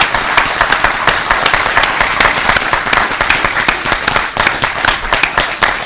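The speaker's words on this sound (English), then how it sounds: "Rounds of applause." An audience applauds after an interview with a film prop maker, a dense, steady round of clapping from many hands, filling the room and close by.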